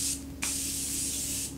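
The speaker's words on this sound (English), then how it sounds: "So I'm going to set some setting spray really quick because this is what I do" Morphe makeup setting spray misted in two bursts, a short hiss followed by a longer sustained spray lasting about a second, close and steady.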